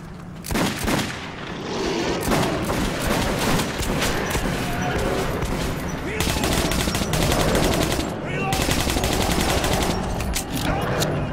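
Gunfire in the video game Metro 2033 Redux: sustained automatic bursts and rapid shots rattle almost nonstop, with denser volleys partway through and a faint voice under the shooting.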